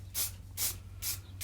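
Spray paint hisses in four short, evenly spaced bursts over the carved grooves of a redwood cabin sign, close and fairly loud, with a low steady hum underneath.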